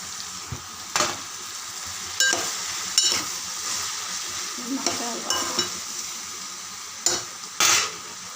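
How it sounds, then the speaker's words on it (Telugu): Chopped tomatoes and okra fry in a pan with a steady, close sizzle, interrupted by repeated scraping and clinking stirs of a spatula against the pan, with no talking. "ఇది కొంచెం మగ్గినాక కోసి పెట్టుకున్న టమాటీలు వేస్తాను."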